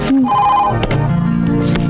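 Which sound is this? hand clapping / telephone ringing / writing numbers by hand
telephone ringing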